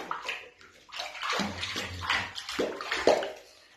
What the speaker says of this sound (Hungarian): Kicsit lobácsold meg a vizet, hogy látszódjon, hogy azért mennyi.